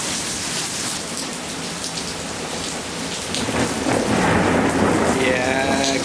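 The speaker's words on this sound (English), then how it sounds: "Lightning strike, 50 metres." Heavy rain pours steadily during a thunderstorm, and thunder from a lightning strike about 50 metres away builds into a loud, close rumble that swells over the downpour toward the end.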